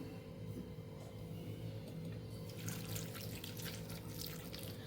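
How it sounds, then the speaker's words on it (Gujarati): Water runs and splashes into a pan of cluster beans and potatoes, a continuous close liquid pour that brightens and thickens toward the end, with no voices. "પોણા કપ જેટલું પાણી ઉમેરી દઈશું"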